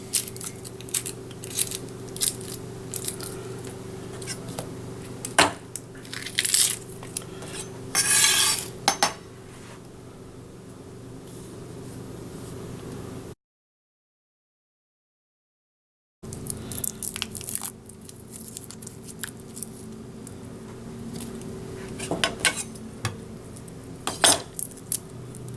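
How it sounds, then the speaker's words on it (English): A knife chops one small onion for borscht soup, giving scattered close knocks and crisp cuts on a board over a low room hum, with a silent gap partway through. "I've got one small onion, and this is just going to get chopped."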